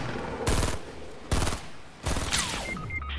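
Fortnite gunfire rings out in three sharp bursts of rapid shots spaced about a second apart, loud and close, with the last burst trailing into ringing game effects and a descending whine.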